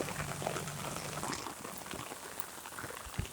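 Rain falling outdoors along a road in need of overdue repairs, a dense continuous patter and hiss of drops heard close by and fairly loud, with no talking.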